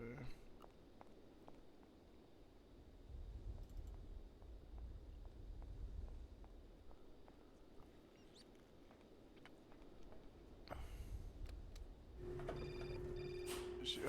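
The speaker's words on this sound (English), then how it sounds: "Oh, phone call." A telephone rings in the video game Syberia. The ring is faint and comes near the end, over a steady low ambience with soft pattering footstep-like sounds.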